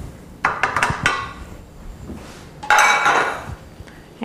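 A stuffed flank steak goes into a fresh, clean pan with several clinks and knocks of metal, a cluster of sharp hits followed by a louder scraping clatter.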